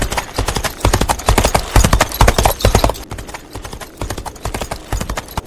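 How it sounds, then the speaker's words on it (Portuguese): Horse hooves clip-clop steadily and loudly as a rider on horseback approaches in a medieval castle setting, a rapid rhythmic patter of hoofbeats that eases slightly after the first few seconds. "É um homem a cavalo."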